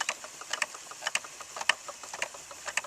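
A wooden spinning wheel turns while thick wool yarn winds onto the bobbin, giving a close, regular clatter of light clicks and taps about twice a second.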